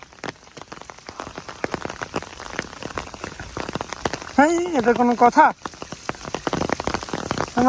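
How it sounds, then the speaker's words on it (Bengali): Heavy rain with big drops pounds steadily on a surface in a rural Bangladeshi village during fishing with a current net, a dense patter broken by a brief louder tonal noise, with a voice speaking over it. "বড় বড় ঠোপ পড়তেছে"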